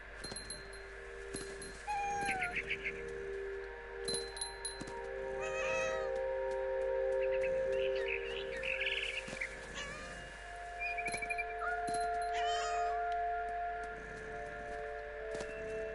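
Cat meows in the video game What Remains of Edith Finch, several distinct mewing calls spread across the stretch, clear over soft game music and ambience.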